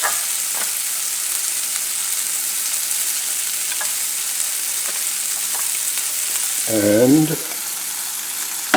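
Prosciutto ham frying in a pan gives a steady, even sizzle throughout, close and fairly loud, with a brief spoken word near the end.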